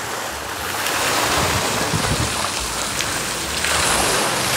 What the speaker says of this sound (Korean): 이렇게 또 물레방아 소리가 그냥 괜히 기분이 좋습니다